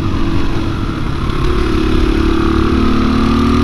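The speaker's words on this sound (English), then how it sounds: "Definite bogging or hesitation there." A 2021 KTM 500 EXC-F dirt bike engine runs loud and close, a steady droning throb that bogs and hesitates without clear revving, with no voices over it.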